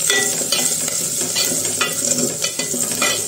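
Dal fries in oil in a pan at home while being stirred, a loud, close sizzle broken by repeated scraping strokes of a spoon in an uneven rhythm, with no voices.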